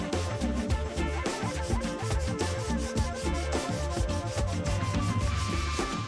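Sandpaper, around 80 grit, scrubs back and forth over a car body panel during dent repair, making a continuous, close, raspy rubbing with a quick steady rhythm and no voices.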